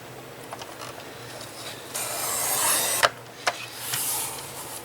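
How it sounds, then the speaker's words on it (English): A trimmer shaves the slightest sliver off a wooden Double Twist puzzle piece, giving a close, scratchy rasping cut of a couple of seconds and a couple of sharp clicks, with no talking. "I'm going to lay it back in my trimmer, and I'm just going to shave the slightest little bit off of here"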